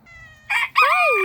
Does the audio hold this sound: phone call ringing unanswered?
no